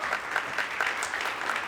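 Brief, moderately faint audience applause for contestants at a startup pitch competition, a steady patter of many hands with no voices.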